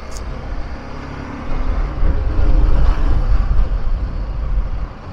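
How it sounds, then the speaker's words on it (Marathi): Busy Mumbai road traffic passing around a motorcycle, a BMW G 310 GS, with a steady broadband rumble of engines and tyres that swells louder midway and stays dense throughout; no talking. "ट्रॅफिक मुंबईचं ट्रॅफिक"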